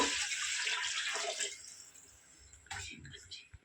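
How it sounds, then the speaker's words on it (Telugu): Two cups of water poured into rice in a pot for green chilli chicken pulao, a steady splashing stream for about a second and a half, then a brief clatter and quieter handling. "ఒక కప్పు రైస్కి టూ కప్స్ వాటర్ పోస్తున్నాను నేను"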